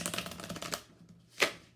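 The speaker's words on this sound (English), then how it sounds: "that was a terrible shuffle" Tarot cards riffled in a quick, clumsy shuffle: a dense burst of papery flutters for most of a second, a short pause, then a single sharp snap as the deck is squared, close and fairly quiet.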